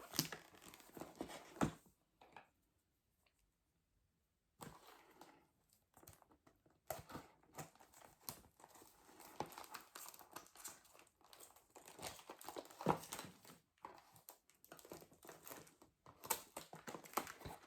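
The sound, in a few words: removing plastic wrapping from AliExpress package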